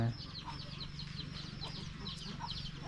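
Chickens cluck in a rural household in a continuous, faint chorus of short repeated calls, with some quiet background murmur.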